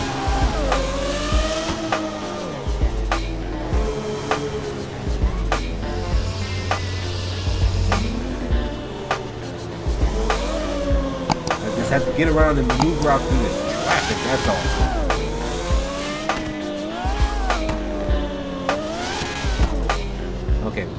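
A Lamborghini driven through traffic in a Franklin video game, its engine revving and whining as it accelerates and weaves, with brief tire noise, running steadily under continuous talk.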